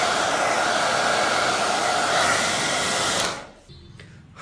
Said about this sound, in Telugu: సో ఇప్పుడు ఒక్కసారి హెయిర్ డ్రైయర్ తీసుకుందాం.